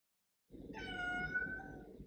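A house cat lets out a single drawn-out meow lasting about a second and a half, close and fairly loud in an otherwise quiet room.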